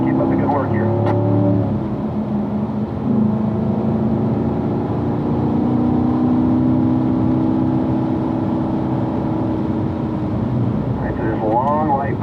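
Car engine on a race track blipping through downshifts, with several rising and falling rev sweeps at the start and end over a steady engine drone, and a voice talking throughout.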